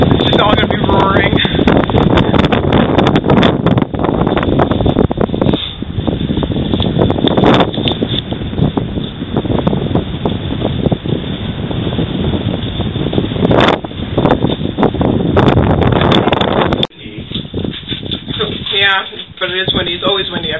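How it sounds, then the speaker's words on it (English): Strong wind on top of a lookout tower buffets the microphone in a continuous loud roar, gusting harder at moments before dropping off abruptly near the end. "But it is windy. It's always windy up here."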